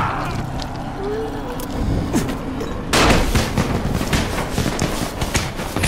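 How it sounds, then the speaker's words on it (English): Fireworks exploding in the video game Dying Light, a run of sharp bangs and crackling bursts that grows louder and denser halfway through, set against a noisy rumbling background. "Man, I'm not gonna have any fireworks left."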